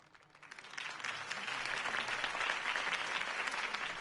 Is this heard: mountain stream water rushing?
no